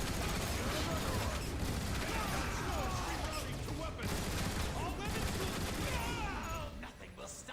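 Turret gunfire in the video game Transformers War for Cybertron, a dense, rapid stream of shots with mechanical clatter, loud and steady for several seconds before tapering off at the end.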